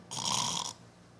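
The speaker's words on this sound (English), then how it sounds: "snoring." A cat snoring on a pillow, one drawn-out breathy snore with a hissing rasp, close and fairly soft, then fading to quiet.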